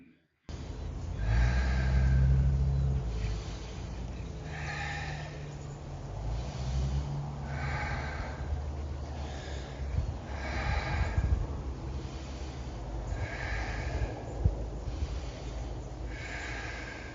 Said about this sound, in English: Let's take 10 breaths.